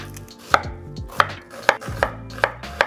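A knife chops onion and ginger into sticks on a cutting board, six crisp, evenly spaced chops ringing out close and clear with no talk.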